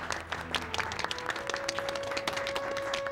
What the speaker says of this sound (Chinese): 请鼓掌